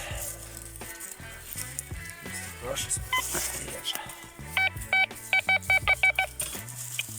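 A metal detector sends out a run of quick, regular electronic beeps, about eight in a row, with people talking over them in Ukrainian in the field.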